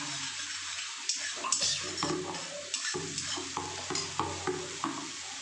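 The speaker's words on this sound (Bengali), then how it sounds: "দেখুন পুরো মশলাটা একদম ভাজা ভাজা মতো হয়ে গেছে।" Spice paste fries in oil in a pan, a moderate sizzle broken by repeated stirring and scraping strokes at an uneven rhythm, close by with no talk.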